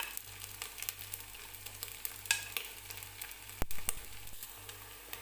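Coarsely ground green garlic frying in a pan for saag, a soft steady sizzle with occasional stirring scrapes and one louder knock, close and fairly quiet.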